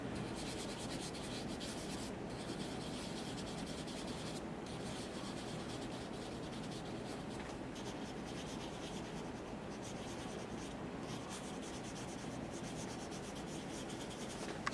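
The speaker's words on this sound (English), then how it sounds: "maybe use our big eraser for these bigger areas." A big eraser rubs steadily across drawing paper, a continuous close-up scrubbing texture with slight variations in pressure, heard alone without voices for the whole stretch.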